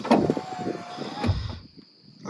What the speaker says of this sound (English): I'm pushing the door to think it's closed, but it does that, and voila, you got yourself some steps.